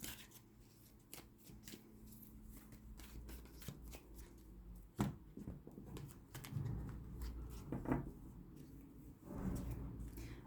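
Tarot cards are shuffled and laid down close by, with quiet riffling and sliding, sharp flicks and taps, and a few louder bursts of card handling at a soft overall level.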